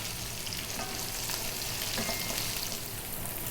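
Onion and garlic sizzle steadily in a pan over medium heat, a dense, even crackle of frying with faint stirring, close and fairly quiet with no talking.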